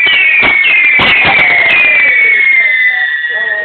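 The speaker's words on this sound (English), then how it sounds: "I just went for a massive explosion." Consumer fireworks go off close by on a night display, sharp cracks and bangs mixed with long descending whistles that trail across the clip, loud and layered over one another.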